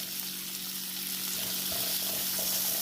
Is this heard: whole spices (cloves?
yes